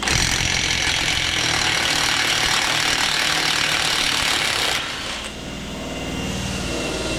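A power tool, likely an impact wrench, unscrewing fasteners on the right side of a Ford Bronco under repair, a loud continuous rattling whir that drops in pitch and steadies near the end.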